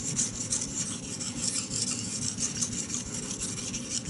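A knife edge being sharpened on a Chosera 800 water stone, heard as a steady, close, continuous rasping scrape with rhythmic strokes throughout, with no talking.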